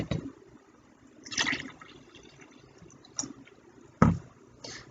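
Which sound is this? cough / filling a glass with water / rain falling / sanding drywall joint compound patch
filling a glass with water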